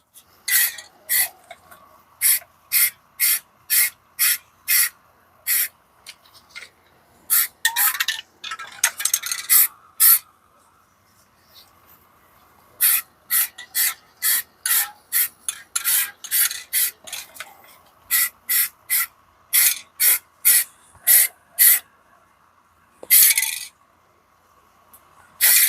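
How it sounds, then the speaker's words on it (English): Quick, sharp bursts of hiss from an aerosol can spraying paint around the brake rotor of a BMW X3 E83 come in rhythmic runs separated by brief pauses, close and crisp, with no talking. "you want to just move it like this as you're doing the coats around the rotor here, so you can evenly distribute that"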